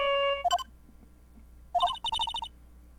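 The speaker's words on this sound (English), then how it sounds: "All of a sudden, the phone began to ring." A telephone in the Phoenix Wright video game rings in short electronic trills: a steady tone, a quick burst, a pause, then a rapid series of chirping beeps, clear and close with no talking.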